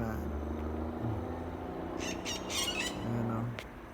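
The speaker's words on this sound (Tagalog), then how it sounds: "malaking parrot." A large parrot in the Cayman Islands lets out a few sharp, raspy squawks midway through, over a steady low background rumble.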